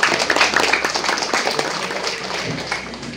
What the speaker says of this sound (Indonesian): Tepuk tangan Karanggintung dan masyarakat.